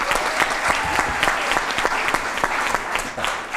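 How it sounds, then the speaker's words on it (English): An audience applauds at a school panel discussion, a dense, steady patter of clapping hands filling the room for a few seconds. "Let's give Fact Checker May and his team a round of applause."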